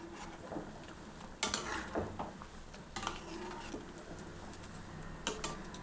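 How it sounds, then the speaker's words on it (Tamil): A homemade healthy children's snack made with milk and butter fries in oil in a pan, with a soft ongoing sizzle punctuated by a few sharp spoon clicks and scrapes as the pieces are turned. "கொஞ்சம் ஃப்ளேமில் வச்சுட்டு நீங்கள் பொரிச்சு எடுக்கணுங்க"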